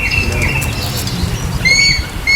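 Wild quail flapping its wings in a quick burst close by, with faint chirps over a steady outdoor background.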